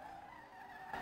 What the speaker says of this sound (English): Man, have I ever got wheel spin?